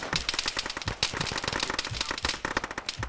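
Rapid bursts of video game gunfire crackle in dense, uneven volleys, loud and close, as a player is hit during a match.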